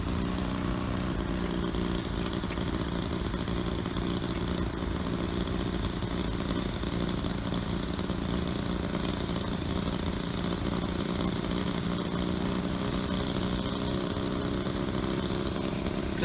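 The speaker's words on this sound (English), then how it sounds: "So right now we're gonna start the engine." SK1000 unmanned helicopter engine running steadily after start-up, a continuous buzzing small-engine drone with a dense, unchanging texture that holds at an even moderate level throughout, with no talk over it.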